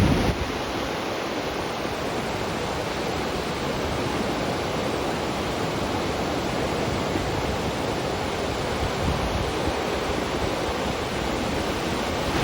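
Pacific Ocean surf at Torrey Pines beach in La Jolla, California, a continuous broad wash of breaking waves heard from a high perch, steady and fairly loud with no voices.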